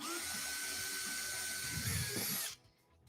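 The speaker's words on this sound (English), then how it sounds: "So I'm going to go ahead and drill this other pilot hole in here real quick." A power drill in a workshop bores a pilot hole with a steady, close, high whine for about two and a half seconds, then cuts off abruptly into quiet room tone.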